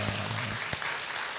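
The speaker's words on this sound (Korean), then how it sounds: "우리 하나님 앞에 감사와 영광의 박수 합시다." A church congregation at a Sunday worship service claps together in a dense, even burst of applause, heard from within the room.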